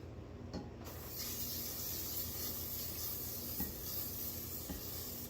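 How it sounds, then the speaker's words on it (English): A steady hiss of canola cooking spray from an aerosol can onto a baking pan, sustained for several seconds with faint tapping, quiet and close, no voices. "we are going to use our canola spray"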